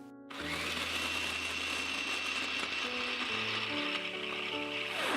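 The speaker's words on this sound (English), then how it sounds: "we're gonna finely chop this in the blender, the food processor" A food processor whirs steadily as it finely chops carrots, a loud motor drone starting abruptly and running continuously, with shifting tonal hum as the blades churn.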